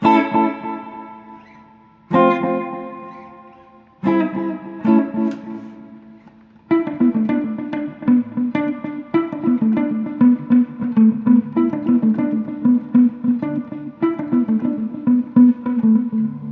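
An electric guitar plays chords and picked notes through a Black Lodge reverb and delay pedal, each note trailing repeating echoes that blur into a steady shimmering wash.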